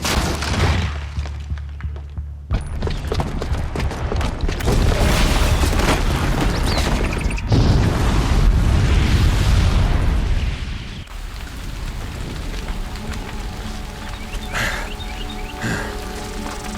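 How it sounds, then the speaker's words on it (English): A booby-trapped bomb detonating in the action game Horizon Zero Dawn gives a loud, heavy explosion with deep booming rumble and crashing debris that roars for several seconds, then subsides into quieter settling noise. "the booby trap on the bomb downstairs is gonna get set off"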